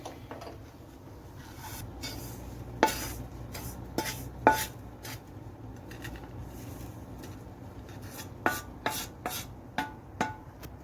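Roasted corn flour scraped from a pan into a vessel, with repeated sharp metallic clinks and scrapes of a spoon against metal cookware, clustered in short bursts, close and fairly loud.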